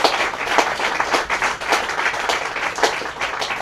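An audience applauds a singer at the close of an interview, a moderate, steady patter of clapping that carries on for a few seconds with no voices over it.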